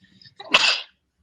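A single sharp human sneeze, close and loud, with a short intake of breath before the burst, then silence.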